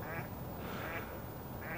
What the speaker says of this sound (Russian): Я их и не заметил, тут утки сидели.